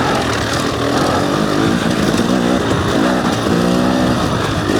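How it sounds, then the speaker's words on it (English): A 300cc enduro motorcycle engine revs loudly up close in cold conditions, rising and falling as the clutch is fanned, with a rough buzzing tone throughout. "I meant to kind of fan the clutch a bit and get some revs in the bike."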